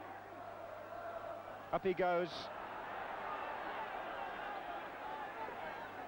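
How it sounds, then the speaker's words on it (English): West Ham United supporters at a home football match against Liverpool keep up a steady, distant roar behind a commentator's voice, with a brief louder swell of voices partway through. "You've got to hand it to the West Ham crowd."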